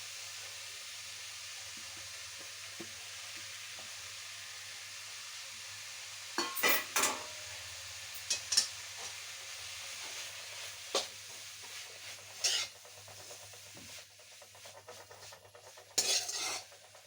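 Grated coconut is stirred into a bitter-gourd leaf thoran in a pan, with a soft low sizzle and a few sharp spoon scrapes and clinks against the pan, quiet overall.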